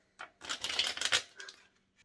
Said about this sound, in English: all I have to do, of course, is give a shuffle